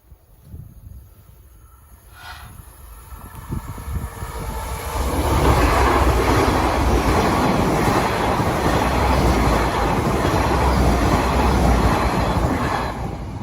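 An IEP Class 800 train, unit 800111, approaches on the East Coast Main Line diversion through Lincoln, growing from a distant hum into a loud, sustained roar of wheels and rails as it passes close by.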